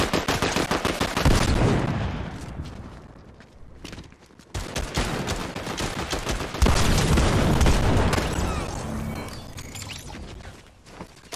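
Gunfire in a Fortnite match fills the clip with dense, rapid bursts of automatic shots, loud and continuous apart from a brief lull, with no talking.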